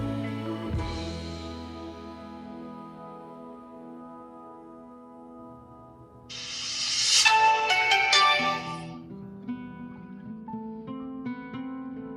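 A Huawei Y3 (CRO-U00) smartphone plays its melodic startup tone while rebooting: sustained chime notes that swell into a brighter shimmering flourish midway, then settle into softer tones, loud and close with no talking.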